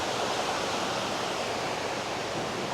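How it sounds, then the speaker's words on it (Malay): Steady, broadband rush of flowing river water beside a campsite, constant and fairly loud with no other sounds. "kalau tang ni memang dengar bunyi air"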